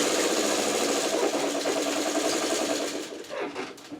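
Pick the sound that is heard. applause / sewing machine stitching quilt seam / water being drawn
sewing machine stitching quilt seam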